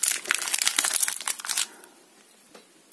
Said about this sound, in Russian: Так, немножко пошуршим, как без этого.